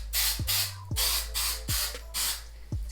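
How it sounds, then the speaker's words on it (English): Hair holding spray hisses from a can onto natural hair in short bursts, four loud, close sprays separated by brief pauses and small clicks of the nozzle. "I'm just gonna spray a little bit of holding spray"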